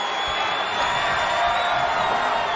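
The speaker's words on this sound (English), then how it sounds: "this crowd is on their feet in full appreciation" A wrestling arena crowd cheering on its feet, a dense, steady roar of voices and whoops with no pauses.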